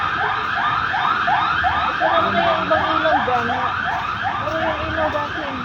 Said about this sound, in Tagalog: Oh, may ambulansya pa oh.